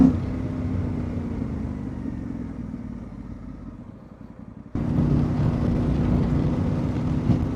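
A Yamaha Tenere World Raid motorcycle's CP2 parallel-twin engine runs steadily with a low, throaty rumble, dipping slightly in volume before surging louder again near the end.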